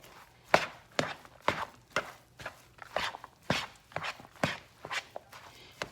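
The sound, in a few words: mixing Thanksgiving dressing ingredients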